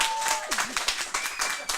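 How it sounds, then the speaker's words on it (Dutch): Audience applauding a story-contest winner, a loud wash of clapping from many hands that holds steady through the short stretch, with brief voices and a faint tone under it. "Nou, applaus."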